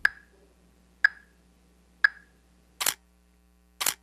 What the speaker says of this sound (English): Press the shutter button and off you go